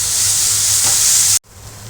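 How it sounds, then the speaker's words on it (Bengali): Chow mein stir-frying in a hot pan with egg added in the middle gives a loud, close, continuous sizzle that stops abruptly near the end, leaving faint room noise. "ভাজা তো অলমোস্ট হয়ে এসছে, মাঝখানে এবার ডিম দিয়ে দিলাম"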